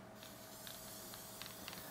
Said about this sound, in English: I'm gonna spray some adhesive onto the stabilizer.